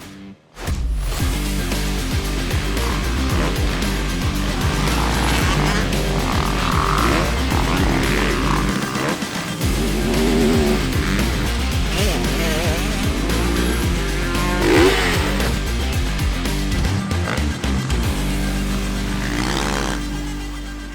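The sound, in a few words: dirt bikes riding a motocross track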